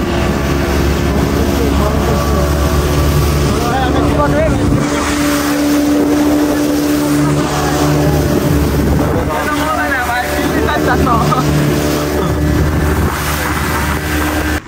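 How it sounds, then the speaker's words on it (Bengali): A speedboat races across the sea off Patenga beach, its loud engine roaring steadily under heavy wind buffeting, with voices talking over it now and then. "সেই স্পিড বোট।"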